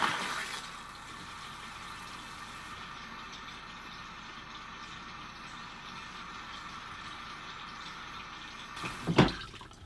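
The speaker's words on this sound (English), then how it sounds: "we're going to go ahead and fill up the toilet or put some water in the black tank" Water running into an RV toilet and down into the black tank, a steady, even rushing hiss for several seconds that ends with a brief louder clunk and splash.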